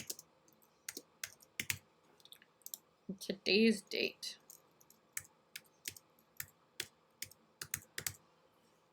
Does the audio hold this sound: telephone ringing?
no